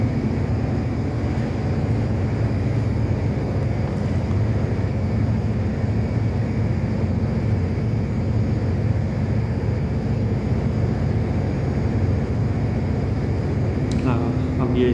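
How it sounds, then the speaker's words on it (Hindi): A generator engine idles through its cool-down run after its breaker is switched off, giving a steady, constant mechanical drone with a voice speaking over it. "ये कूल डाउन रन में चल रहा है इंजन।"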